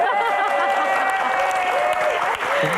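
Audience applause at a campus Q&A event honoring a beauty queen, dense continuous clapping filling the room with steady loudness, voices mixed into the crowd noise.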